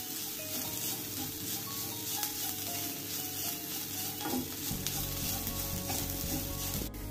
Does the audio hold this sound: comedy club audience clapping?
no